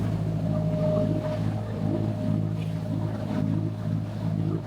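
A Luce Yacht motorboat engine drones steadily at close range near Burgazada, a low throbbing hum with a constant tone and no voices, running the whole time.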